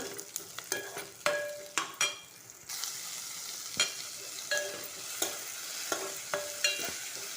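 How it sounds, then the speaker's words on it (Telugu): Chopped tomatoes hit a hot tempering of spices and fry with a steady sizzle, while repeated sharp scrapes and clinks of a stirring spoon against the pan keep landing through the sound. "ఇందులోనే ఇప్పుడు టమాటా వేసుకుందాము."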